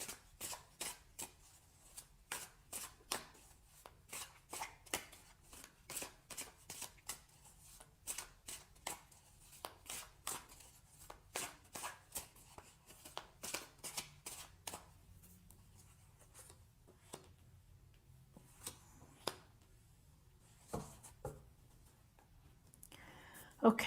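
Tarot cards shuffled by hand in a quiet room, a long run of quick, crisp riffling and flicking bursts, close and fairly soft, with short pauses between and a single heavier handling sound near the end.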